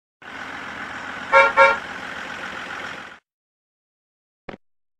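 A bus engine hums steadily nearby while its horn gives two quick honks near the start, the engine running on for a few seconds before cutting off, then a short click.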